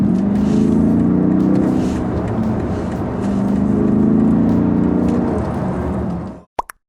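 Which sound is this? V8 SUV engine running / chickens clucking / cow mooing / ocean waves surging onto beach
V8 SUV engine running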